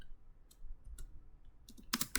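Keys on a computer keyboard tapped in a few sparse, soft clicks, ending in a quick, louder burst of typing, with no talking.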